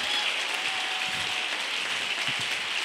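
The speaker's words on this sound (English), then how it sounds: "I want us to clap our hands." Applause from a seminar audience at a church Bible gathering, a steady dense wash of many hands clapping at moderate level throughout, with no talk over it.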